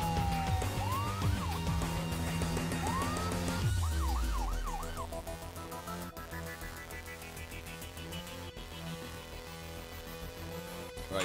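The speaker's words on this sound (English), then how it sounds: "do the proper like Scottish fire truck siren when you arrive on the scene" A Scottish-style fire truck siren from the Flashing Lights game wails in rising and falling sweeps, then shifts to a faster warble over a constant engine drone, fairly loud.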